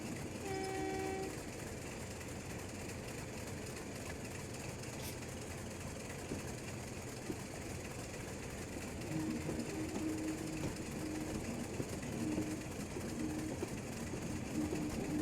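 A Class 35 diesel locomotive runs in Train Sim Classic on the route to Weardale, giving a steady rumble of train noise, a brief horn blast near the start and a low engine tone that gets stronger later, with no talking.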